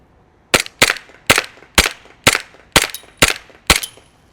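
Elite Force Glock 19X airsoft pistol fires eight sharp, evenly spaced shots, loud and close, each a crisp snapping crack with a short tail, with no voices.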